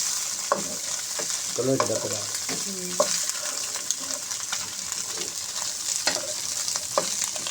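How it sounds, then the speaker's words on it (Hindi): Peas frying in a pan are stirred, a continuous close sizzle broken by repeated scraping and clinking strokes of the spoon across the pan, no voices. "अब डालने हम असी मटर। इन्हों हम असी चंगे तरीके नाल हिला लवांगे।"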